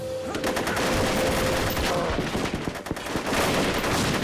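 Rapid gunfire from a movie shootout on a bridge, where townspeople fire dozens of rounds at a giant; dense, loud bursts crackle continuously throughout, with a brief faint tone early on.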